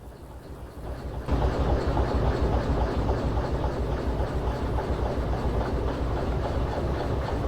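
A locomotive rumbles steadily along the rails in the Derail Valley video game, with a dense low engine drone and rolling clatter that jumps louder after the first second and stays constant.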